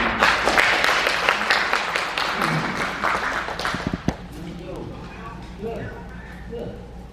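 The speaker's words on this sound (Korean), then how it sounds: "김 박사님께 큰 박수를 드립니다" An audience at a book launch event applauding, loud dense clapping for the first few seconds that tapers off after a final sharp clap, leaving quieter room murmur and voices.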